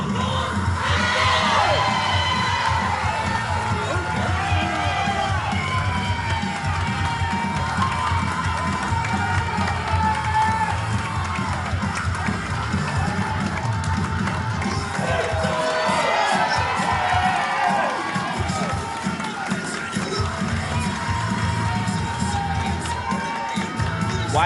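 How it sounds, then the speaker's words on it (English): A wrestling crowd cheers and shouts loudly and continuously as fan favorite Wyatt Sutton makes his way to the ring, with whoops and children's yells rising over a dense, steady roar of the arena. "the crowd is about to go berserk, folks"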